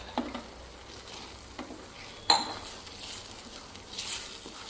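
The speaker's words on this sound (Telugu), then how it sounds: "మంచిగా కలుపుకుందాం." Moong dal mixed with Malabar spinach and stirred in a pan: faint scraping strokes and a soft sizzle, broken by one sharper metallic clink, quiet and close.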